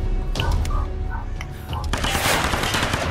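Enemy gunfire in the Tomb Raider video game: scattered shots early on, then a dense, loud burst of rapid automatic fire in the final second, with a voice audible at times.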